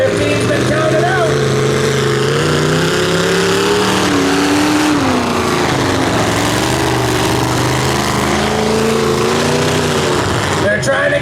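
Stock trucks at a demolition derby rev hard and steadily, engines rising and falling as they strain for traction, loud and close throughout, with a voice talking over the engine noise.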